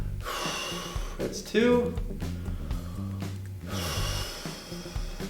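Sharp breaths and a forceful exhale during a cross-body arm stretch in a fitness workout, a coach's voice counting over them with short talk before and after.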